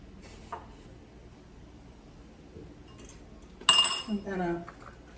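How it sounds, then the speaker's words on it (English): A fork scrapes and clinks against a bowl while getting raisin bran muffin batter out, a brief burst of metallic scraping late on, fairly close, with quiet background before it. "I am going to attempt to get all of that goodness out of that bowl. Scraping my fork."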